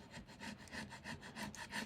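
A sandpaper block sanding the edge of a decoupaged tray, quiet rhythmic back-and-forth rasping strokes, close and alone.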